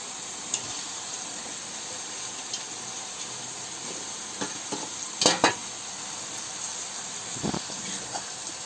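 Brinjal, tomato and potato curry fries in a pan with a soft, steady sizzle, broken by several sharp scrapes and clatters of a spoon stirring against the pan, with no talking.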